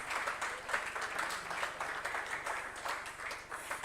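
Audience at a youth business summit seminar claps steadily, a dense patter of many hands in a room, moderately loud and continuous.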